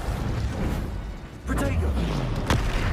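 Confringo blasting curse explosion in Hogwarts Legacy: a dull booming blast partway through, followed by a sharp crack, loud against ongoing game sounds and spell casting.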